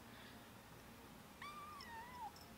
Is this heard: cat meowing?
yes